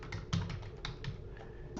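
Fast, close clicking of computer keys while entering student names into course enrollment, an uneven run of light taps over a quiet room.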